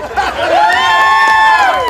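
A large crowd cheers and whoops loudly with applause and shouting voices, a sustained roar across the whole moment.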